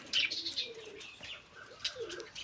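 Soft pigeon coos and a few chirps up close, with a brief flutter of wings, fairly quiet overall.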